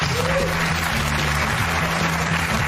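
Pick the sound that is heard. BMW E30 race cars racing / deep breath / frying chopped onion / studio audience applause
studio audience applause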